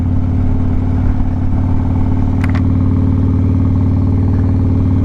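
A cammed Harley-Davidson Road Glide thumps steadily and loudly in stop-and-go city traffic, its lumpy engine note held close throughout with a brief sharp click partway through.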